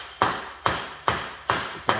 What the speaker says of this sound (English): tap it out the rest of the way with just a hammer and a punch,